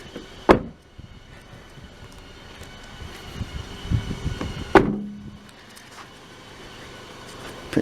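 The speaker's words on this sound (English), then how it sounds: "Alright, let me just close those doors." Doors of a 2006 Toyota Yaris YRX five-door hatchback shut in two distinct solid thuds a few seconds apart, close by, with light handling noises between and no talking.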